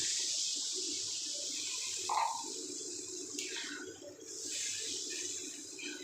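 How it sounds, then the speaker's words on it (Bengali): A cup of hot water is poured into a simmering egg, potato and capsicum curry, making a steady rushing hiss that runs without a break through the whole stretch. "তাই আমি এখানে এক কাপ জল দিয়ে দিলাম"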